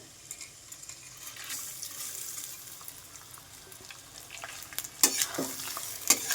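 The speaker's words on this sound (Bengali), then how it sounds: "দিয়ে ভালো করে নাড়াচাড়া করে নেব" Rice grains stirred while frying in a pan for Bengali basanti pulao, a steady soft sizzle with scraping strokes, then several sharper spoon-against-pan knocks toward the end; no talking.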